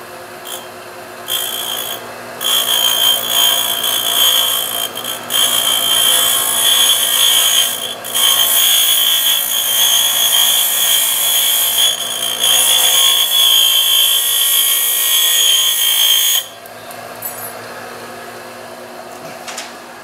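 A tool cuts aircraft elevator hinge pins to length on a Sonex kit plane with a loud, continuous abrasive grinding that runs for about fifteen seconds between brief pauses, close and steady.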